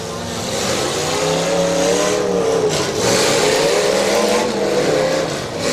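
A car revs hard at a demolition derby at a firemen's festival in Greenwich, its engine roaring loud and close in a continuous rising and falling snarl, with no voices on top.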